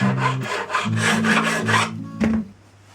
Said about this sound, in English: I just have this medium and wide crowning file